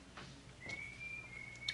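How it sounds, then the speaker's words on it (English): A thin, sustained whistled tone drifts in the background for about a second, faint and steady, with a quieter room ambience around it. "I apologize if you can hear whistling"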